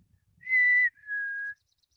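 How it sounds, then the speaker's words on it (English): A chickadee's spring song: a clear two-note whistled call, the first note higher and the second slightly lower and longer, alone against silence. "that's the spring song of a chickadee."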